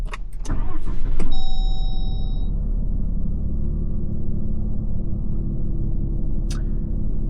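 A 2025 RAM 3500 HO Cummins diesel pickup truck starts up with a brief cranking burst, then settles into a steady, close, low rumbling idle that continues to the end.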